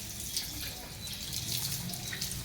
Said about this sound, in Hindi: ये देखो बच्चे वज़ू कर रहे हैं माशाअल्लाह।